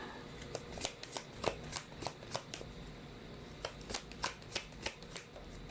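A deck of tarot cards is shuffled and drawn, giving a quick series of crisp riffling snaps and flicks at close range over faint background noise, with no talking.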